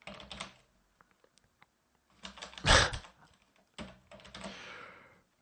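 Quick bursts of keystrokes on a computer keyboard while writing C++ code, clustered in three short runs with quiet gaps between, close and clear with no talking.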